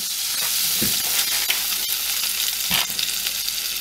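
Butter melting in a hot pan to start a béchamel sauce for cauliflower cheese: a constant close sizzle with a couple of soft scrapes, no voices.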